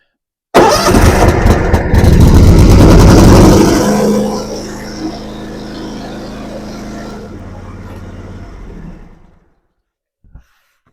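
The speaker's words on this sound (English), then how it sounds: "I'm going to start up the tractor, make sure it runs the way it should" A John Deere X530 riding lawn tractor engine cranks and catches with a loud burst, then drops to a steady idle before shutting off, leaving silence.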